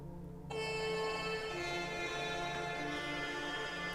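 A melodic synth patch built on Spitfire Sombra Steel swells in after a brief quiet start, sustaining layered bright metallic tones over a dense low drone, steady and alone.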